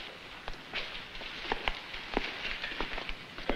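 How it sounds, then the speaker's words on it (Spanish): Rain falls steadily in a continuous soft hiss, with scattered louder drops and patters landing nearby. No one speaks. "Va a seguir lloviendo, señora."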